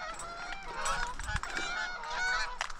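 A flock of geese honks repeatedly while coming in to land at a hunting spot. The calls are overlapping and fairly distant, and nobody speaks.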